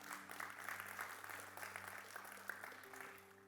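A church congregation at an anniversary service claps, soft and distant, with a sparse patter of hand claps over a steady low electrical hum.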